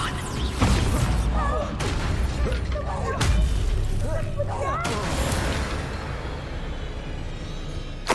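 The Confringo blasting spell explodes in Hogwarts Legacy, a dense series of booming blasts and crackling bursts over several seconds amid game combat noise, with voices speaking throughout.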